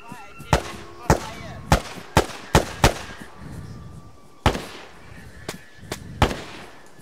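Sharp explosive bangs in the Arma 3 video game, about a dozen irregularly spaced loud cracks and blasts over a low background, with no talk between them.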